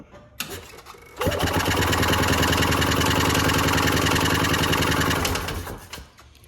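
A fuel pump on a 1986 Columbia utility cart runs after priming, starting abruptly with a loud, dense rapid mechanical buzz that holds steady for about four seconds before tapering off, no talk.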